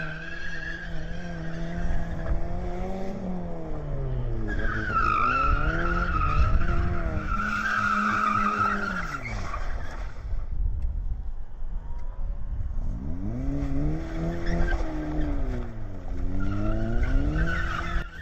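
Rally cars skidding and revving hard at the Dunmail Park Rallytest, engines rising and falling through repeated slides with tyre squeal, loud and close, a brief lull in the middle before another car roars through.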